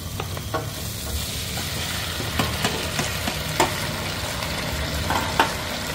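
Pork with eggplant stir-frying over high heat in a pan with sesame oil, a loud, steady sizzle throughout with repeated scraping stirs from a utensil rising briefly above the hiss.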